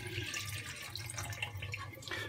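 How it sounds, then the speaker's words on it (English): Homemade butter is pushed around and squeezed in a bowl of water, making a steady wet sloshing and splashing that is close and continuous, with no talking. "basically push the butter around in the water, squeeze it"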